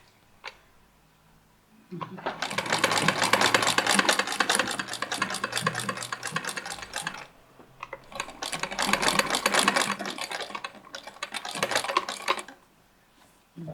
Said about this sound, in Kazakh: Мына шетін тігіп шығасың қазір.